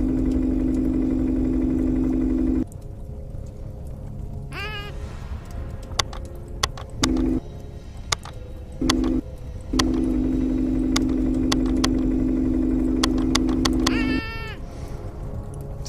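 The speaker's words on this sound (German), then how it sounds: "Kran fahren." A crane's engine in the video game Journey of a Roach hums with a steady tonal drone that cuts in and out in segments, with short rising whine-like effects and clicks between the running stretches.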